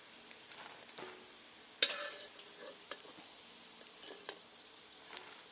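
Sun-dried eel deep-frying until crispy in hot oil, a faint steady sizzle with occasional sharper pops and clicks of stirring or utensil contact, no voices.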